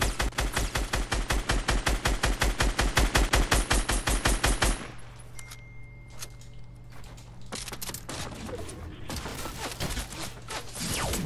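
Rapid, loud double-barrel shotgun gunfire in a video game, a fast regular burst of shots, then a quieter stretch with a few scattered blasts and mechanical clicks.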